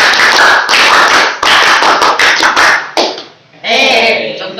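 A group doing the Indonesian scout clap (tepuk pramuka) in a classroom counselling session, loud and close, with bursts of rhythmic clapping in patterned beats, short pauses between them, and voices joining in.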